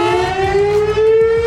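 A civil defense siren sounds a missile attack warning, its loud wailing tone rising slowly and steadily throughout, with no voices present.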